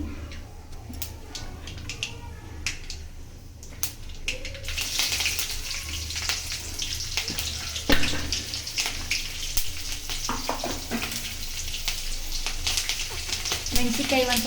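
A tempering of cumin, mustard seeds, curry leaves and chopped chillies fries in hot oil, building from scattered pops into a loud, dense sizzle with sharp crackles, and a voice speaks at moments.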